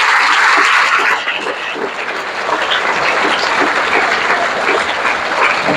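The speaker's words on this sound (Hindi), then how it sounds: "एक बार जोरदार ताली बजाओ इस बात पे।" An audience at a school ceremony honouring top students claps loudly and steadily, a dense sustained wave of applause from a large crowd.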